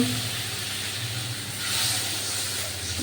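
A little water poured over ground spices frying in a pan sets off a burst of steamy hissing that rises and then settles back to a steady sizzle, heard close with no voices.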